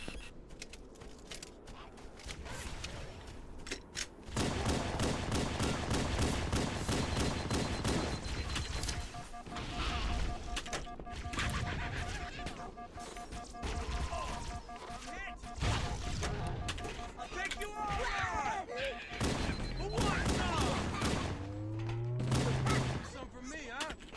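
Rocket fire in Halo gameplay, with repeated launches and blasts mixed among rapid gunfire and crashing explosions, while players talk over the action.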